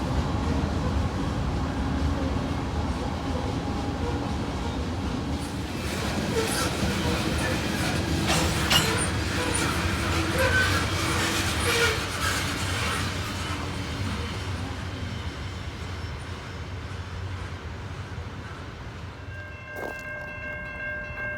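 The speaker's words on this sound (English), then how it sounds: "Big grain train." A long Norfolk Southern freight grain train rolls past close by, with a steady rumble and the clatter of wheels over the rails building and then fading. A horn-like tone sounds near the end.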